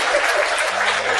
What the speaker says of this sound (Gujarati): આપણી કીધી એટલે તાળી પાડી.